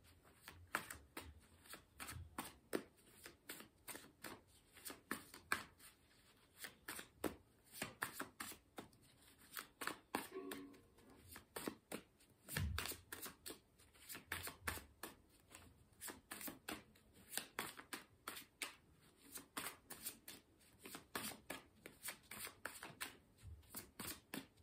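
Tarot cards are shuffled by hand in quick, crisp bursts of riffling and slapping, close and steady, repeating for a long stretch with no talking.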